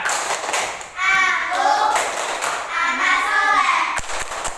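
Children in a classroom clap along to the rhythmic 'tepuk anak soleh' chant, with steady hand claps and taps keeping time beneath their sung voices.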